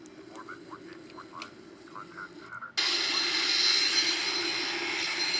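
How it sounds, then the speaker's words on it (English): The left engine of a Boeing 767-300ER spools up in a flight simulator game, a sudden loud, steady jet roar with a high whine that cuts in after a few seconds of quieter cockpit hum and faint voices. "So if we come here, we're gonna see the left engine start."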